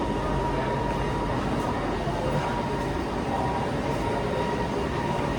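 An MRT train rumbles steadily through a transit station, a dense continuous roar of wheels and motors with faint rhythmic clatter, loud and unbroken throughout.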